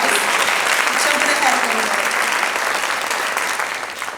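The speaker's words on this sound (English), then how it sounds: "Yes, we can give her a round of applause." An audience at a children's advocacy benefit breaks into dense, sustained applause, loud and close, slowly tapering toward the end, with a voice faintly under it.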